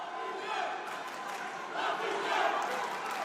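An arena crowd at the Chayr Arena in Niš cheers and chants to rally a boxer during a world championship final bout, a steady raucous roar that swells in waves from a distance.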